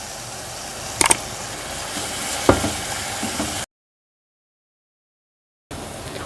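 Milk poured little by little into vermicelli frying over low-medium heat, a steady close sizzle with a couple of sharp clatters, then a sudden silence before the sizzle resumes.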